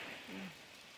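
Steady rain patters softly and evenly, a faint continuous hiss of drops with no voices.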